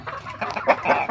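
A pet chicken clucks in short, close, fairly loud bursts, several irregular clucks in quick succession with no talking over them.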